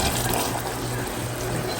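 Water pours steadily into a cooking pot in a continuous rushing stream, fairly close, with a low hum underneath and no talking.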